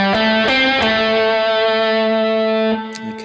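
A short distorted electric guitar lick, a few picked notes then a held ringing tone, loud and close with no voices.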